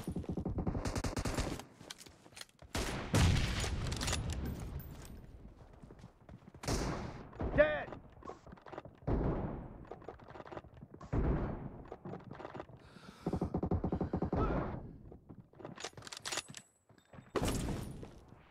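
Machine gun fire in PUBG Mobile, several separate short bursts of rapid shots spread across the stretch, moderately loud with quiet gaps between them.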